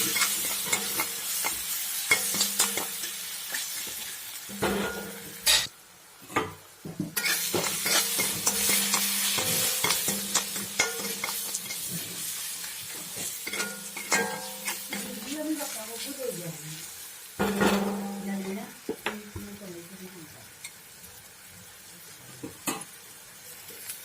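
Fish masala spices frying in a pan, a continuous hiss of sizzling oil with frequent scraping, clattering stirs of a spoon against the metal, some pauses between strokes and faint voices in the background.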